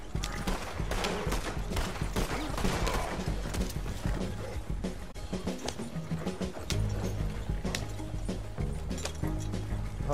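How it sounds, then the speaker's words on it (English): Horse hooves clip-clop continuously in the Western game Red Dead Online, a busy mix of hoofbeats with scattered gunfire and clatter, loud and unbroken throughout. "How this horse is really slow."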